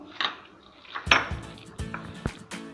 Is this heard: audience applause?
no